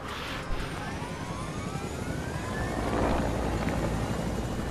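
A helicopter idling in Fortnite, a steady whirring engine drone with faint rotor hum that holds at an even level and grows slightly louder toward the end.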